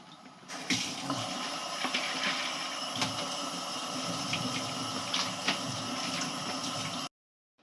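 Sugarcane being washed under running water makes a steady, close rush and splash that cuts off abruptly at the end.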